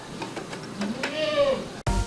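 A dairy goat on a farm gives one short, wavering bleat nearby during milking, followed by a sudden dull knock.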